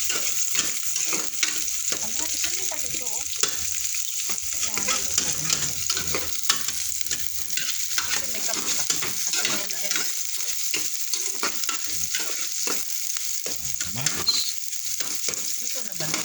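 Onions and tomatoes stir-frying in a pan for a mussel dish, a steady close sizzle broken by repeated scraping and stirring strokes throughout, with no talking.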